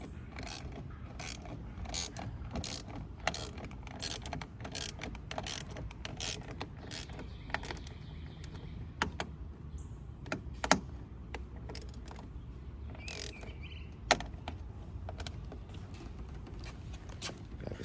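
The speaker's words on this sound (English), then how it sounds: "I have to screw it in, one at the bottom, one at the top" LED side markers are being screwed back into a Chrysler 300, a run of small mechanical clicks, ratchety ticks and scraping taps close up, irregular and fairly soft over a low background rumble, with no talk.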